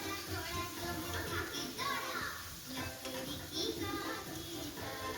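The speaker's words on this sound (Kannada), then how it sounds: "ಅದನ್ನು ಕೂಡ 2 ಸೆಕೆಂಡು ಚೆನ್ನಾಗಿ ಫ್ರೈ ಮಾಡ್ಕೊಳ್ತಾ ಇದ್ದೀನಿ" Chopped ripe tomatoes frying in a pan for tomato sambar, a continuous close sizzle with occasional stirring scrapes, while a voice talks over it.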